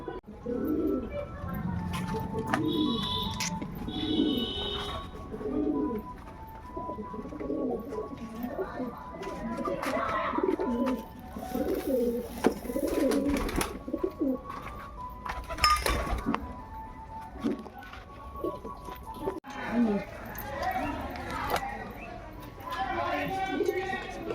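Pigeons coo in low, repeated throaty rolls close by, with someone speaking Bengali over them and occasional clinks and rustles in the background.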